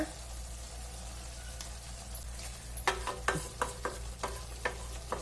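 Chili powder and spices frying in oil for egg masala gravy, a steady soft sizzle broken by several sharp scraping stir strokes in the pan, close and moderately loud, with no one talking.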